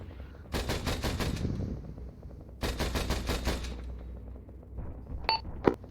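Bursts of heavy gunfire during amphibious assault training, two long rapid automatic volleys separated by a pause, then a few sharp pings near the end.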